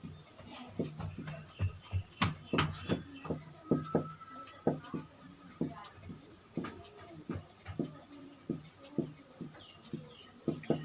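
Writing on a board during a school science lesson gives sharp taps and short scratchy strokes in an uneven rhythm, heard close up under a teacher's ongoing talk.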